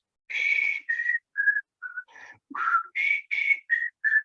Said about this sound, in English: breathing out, whistling out